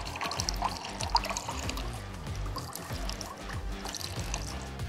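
Water poured onto cut pieces of TimberBatt wood fiber insulation, a close, continuous splashing trickle with uneven gurgles, no talking.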